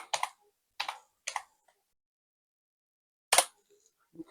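Short bursts of clicky typing on a computer keyboard come in a few separate clusters with quiet gaps between them, close and clear.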